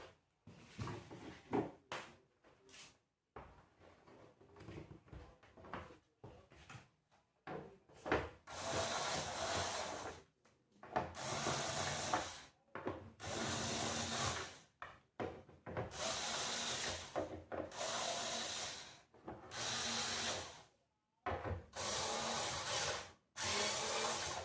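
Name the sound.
unscrewing bolts while disassembling a Sharp TV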